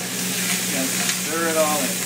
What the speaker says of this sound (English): Stir it all in.